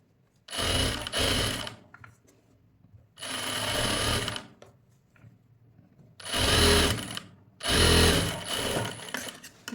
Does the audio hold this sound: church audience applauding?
no